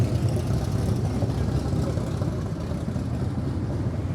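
A BMW M8 Competition at a riverside car meet makes a loud, continuous engine roar at close range, rumbling steadily without any speech over it.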